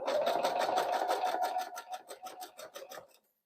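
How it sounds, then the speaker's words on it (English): A sewing machine stitches a jelly roll fabric rug, giving a close, steady fast chatter of needle strokes that slows over the last second and then stops, with no voices. "And turn and keep sewing."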